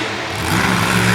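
A loud monster truck engine runs rough and strained during a timed competition run in Radford, Virginia, roaring steadily close by with a harsh, uneven growl.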